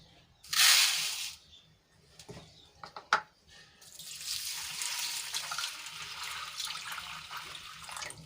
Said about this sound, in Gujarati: હવે એને આ બે પાણીથી આપણે ધોઈને સાફ કરી લઈશું